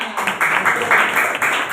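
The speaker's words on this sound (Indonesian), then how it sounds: "Nah, tepuk tangan untuk Maulana." A classroom of students applauds for their classmate Maulana during an Indonesian language lesson, a short, fairly loud burst of clapping close to the listener.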